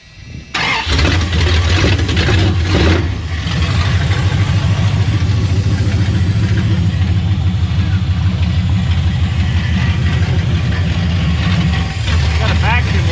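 A 1973 Dodge Charger project car with a vacuum leak cranks and fires up, then runs loud and close in a steady, rough idle with a faint hiss over the rumble, with voices talking briefly at the start.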